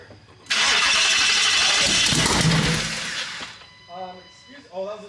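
A twin-turbo truck engine fitted in a supercharged Mustang cranks over with a loud, harsh roar lasting about three seconds, then cuts off as voices talk nearby.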